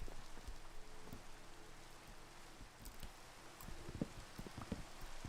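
Steady rain falls in Minecraft, a soft, even hiss with scattered light patters, fairly quiet and continuous with no voices.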